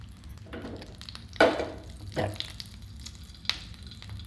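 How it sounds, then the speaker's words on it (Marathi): Cashews, almonds and magaj seeds roast in ghee, a low sizzle broken by a few louder scraping stirs of a spoon in the pan for gum laddu. "आता तुपामध्ये इथे मी पंचवीस ग्रॅम काजू पंचवीस ग्रॅम बदाम पंचवीस ग्रॅम पंचवीस ग्रॅम मगजबी घालून घेतलेले आहेत आणि हे छान आपण तुपावरती परतवून घ्यायचे"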